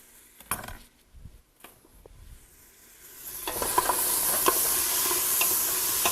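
Garlic is added on top of vegetables in a pan, with a few utensil taps and clinks before a bright, steady sizzle builds and continues under stirring scrapes.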